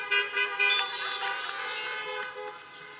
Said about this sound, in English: just feel free to honk your horn